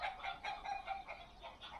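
Chickens on a homestead scuffle and cluck in a quick, agitated run of repeated calls, fairly close but modest in level. No one speaks over them.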